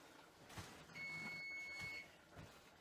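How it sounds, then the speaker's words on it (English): A kitchen timer sounds a steady electronic tone for about a second, faint and thin, against quiet room noise with soft clatter. "Oh, there's the timer. Let me turn that off."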